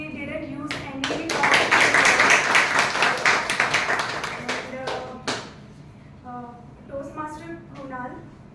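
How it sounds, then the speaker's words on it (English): Clapping breaks out for a guest at a Toastmasters club meeting, a quick patter of hands that swells, then thins out while voices speak over the tail end. "give a round applause our dear guest Gopi Krishnan"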